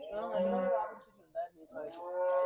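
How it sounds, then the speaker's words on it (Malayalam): A cow moos loudly and close by on a rainy day in Kattappana, Idukki, giving two long drawn-out lows with a brief pause between them, heard alone. "പശുവൊക്കെ കിടന്ന് കാറുന്നുണ്ട് കേട്ടോ"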